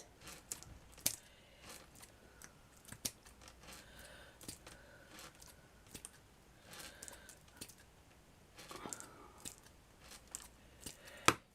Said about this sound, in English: So we're just going to cut some of this.